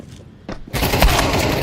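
Fragmentation grenade blast and gunfire in a competitive first-person shooter match: a faint thump, then a loud, sustained burst of rapid shots and explosion noise that fills the rest of the moment.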